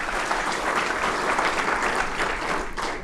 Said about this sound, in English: If you can join me in giving our 2025 Emerging Scholars a round of applause.